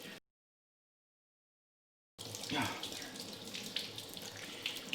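Tap water runs steadily over hands being washed under a faucet into a sink, starting abruptly after a brief silence and continuing as a loud, close, splashing hiss.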